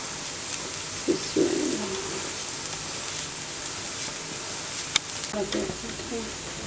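A sweet, healthy pancake cooks on a griddle with a steady, low sizzling hiss throughout, broken by a few short tonal sounds and a faint tap near the end.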